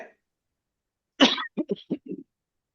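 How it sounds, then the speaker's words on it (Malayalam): One loud, sharp cough followed by a short series of smaller coughs, close by and otherwise quiet. "ഇപ്പൊ ഇല തിന്നപ്പ ചുമ വന്നത്"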